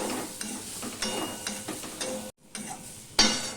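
Ginger and pumpkin sauté in a pan with a continuous sizzle broken by spatula scrapes and clacks, one brief pause near the end before the stirring resumes, close and without speech.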